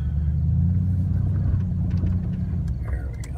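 An off-road vehicle rolls through a dust cloud with a steady, loud low engine rumble and road noise that holds throughout, close to the microphone.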